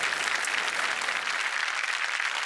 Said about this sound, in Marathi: जोरदार टाळ्या सरांसाठी. खरंच जोरदार टाळ्या.